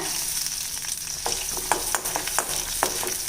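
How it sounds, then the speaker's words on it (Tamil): Steady crackling sizzle of ginger garlic paste frying in butter, with occasional sharp pops and stirring scrapes, close up and continuous. "இந்த பட்டரோடையே சேர்த்து இஞ்சி பூண்டு பேஸ்ட்டும் வதங்கி வரட்டுங்க"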